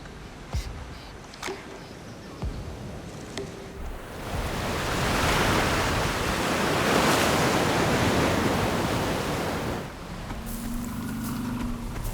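Atlantic Ocean surf washes onto the coast where the Congo Basin meets the sea, a broad wave roar swelling in the middle and easing off, with no talking.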